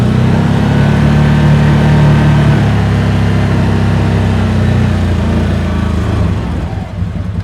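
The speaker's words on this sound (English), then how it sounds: "you can just hear it revving a little bit quicker to get there" A 90 HP 2023 CFMoto ZForce 950 HO EX UTV engine runs loud and steady, its pitch climbing slightly as it revs, then easing off toward the end.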